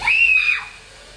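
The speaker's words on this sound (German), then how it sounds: "Das war ein Schrei der Glücklichkeit." A happy, excited scream, a single shrill rising-then-held cry lasting about half a second, loud and close, with no talk.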